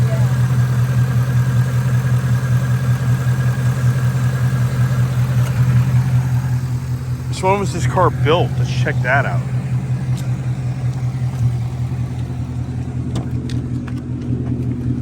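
A Ford Mustang Bullitt V8 engine, about six years old, idles steadily with a low, even rumble while someone talks over it.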